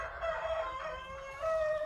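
Chickens on a home poultry farm with white hens that lay blue eggs, a rooster crowing amid steady background clucking and farmyard noise, moderately close.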